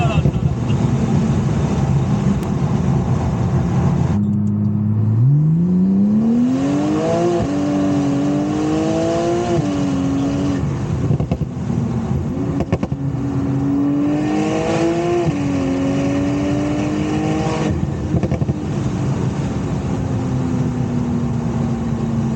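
A Porsche 992 Turbo S Convertible, upgraded to about 700 bhp, revs and accelerates loudly through the gears, its pitch climbing and dropping with each shift, with wind noise throughout.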